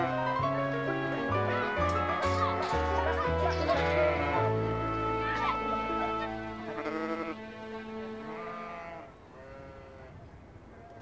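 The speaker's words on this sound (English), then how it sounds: "The early signs are encouraging as the sheep are masterfully herded towards the pen." Sheep bleat repeatedly as they are herded into a pen during a castaway-style farming task, layered over a loud, continuous musical score that dominates throughout, with the bleats only partly distinct.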